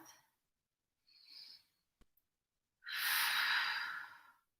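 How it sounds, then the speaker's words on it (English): Breathing during a yoga stretching class: a soft inhale and brief exhale, a small click, then a long, louder breath out near the mic, with no speech. "Take 1 more breath."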